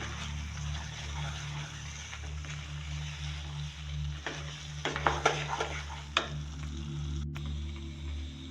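Mutton pieces being stirred into a pan for Kolhapuri sukkha mutton, with a steady frying sizzle, a low hum underneath, and a few louder scraping clatters of the spoon toward the middle.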